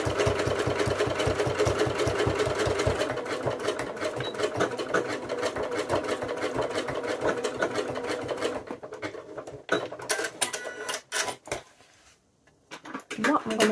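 A sewing machine stitches jersey fabric in a fast, steady mechanical rattle that runs for several seconds, then breaks into stops and short bursts as the fabric is pushed through, heard up close with no talking.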